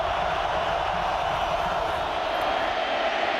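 A dense, steady roar from a football stadium crowd at Ohio State as fans make noise for the Buckeye defense on third down, sustained and loud with no distinct breaks.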